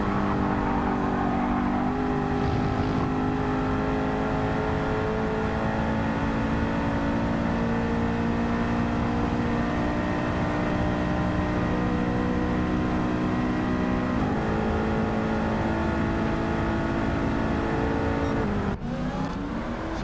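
Muscle car engine in Gran Turismo 7 during a wet one-hour endurance race, a steady loud drone with shifting revs and wheel spin running continuously, a brief gear change near the end, no voices.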